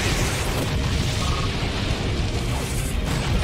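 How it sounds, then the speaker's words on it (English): A loud, sustained rumbling blast with heavy low-end roar that rolls on for several seconds, an explosion move in the video game Pokémon Battle Revolution. "Annihilated by explosion!"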